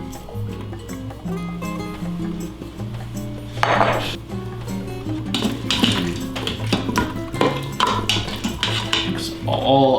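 Red wine, celery and carrots are stirred in an Instant Pot, with irregular scraping and clattering of a utensil against the pot. The knocks come close and moderately loud over a low steady hum.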